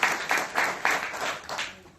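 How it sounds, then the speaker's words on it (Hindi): An audience at a motivational network-marketing talk claps in about six short, rhythmic bursts, moderately loud and fading toward the end, with no speech over it. "एक बार जबरदस्त तालियां"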